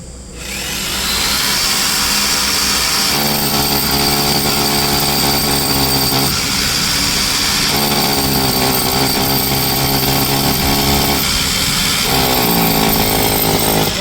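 A power drill running on a 1 kW solar supply through a 3 kW inverter whines steadily and loudly for the whole stretch, with small shifts in pitch under load and no talking.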